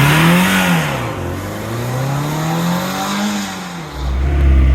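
A Renault Sport Spider pulls away as its engine revs up, pitch rising and falling through a couple of climbs, loud and close, with a deeper rumble surging at the end.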